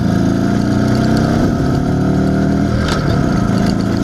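An IZh Planeta 5 motorcycle rides in second gear after a crankshaft seal replacement, its engine droning steadily and loudly with wind rush throughout.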